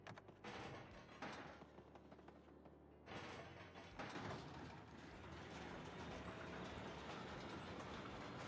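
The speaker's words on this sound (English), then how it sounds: "hey, there's a train out here." A train running in the video game Paper Mario: The Thousand-Year Door, with rhythmic clickety-clack wheels and rumbling railcar mechanics that cut out briefly and then build into a steady, continuous run.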